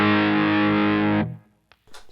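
Electric guitar driven into a dirty amp with the Digitech DF-7 pedal bypassed, a thick sustained distorted chord ringing loud for about a second before cutting off, followed by faint string noise and a brief scrape.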